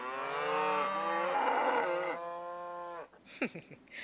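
A single cow moos loud and long outdoors in Texas heat on a Brazos Valley farm, the low drawn-out call lasting about three seconds before brief rustling.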